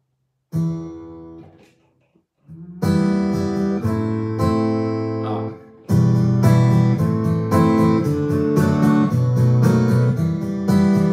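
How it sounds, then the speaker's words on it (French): Keyboard playing an acoustic guitar patch, plucked, strummed-sounding notes and chords, first sparse with a pause, then a steady, denser rhythmic pattern, loud and close with no talk. "Un son de guitare sèche, on pourrait faire quoi?"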